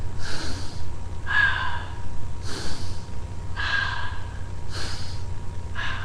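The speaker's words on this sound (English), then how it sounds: "So the first set is going to be in through the nose and out through the mouth" A person breathes in through the nose and out through the mouth during a QiGong session, with slow rhythmic cycles of three audible breaths, each a clear airy inhale followed by a softer exhale, close and alone.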